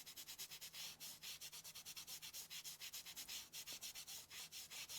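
Rapid back-and-forth scrubbing of a magic eraser over the metal pins of an NES cartridge, a steady rhythmic rubbing of about four strokes per second that carries on close and alone throughout.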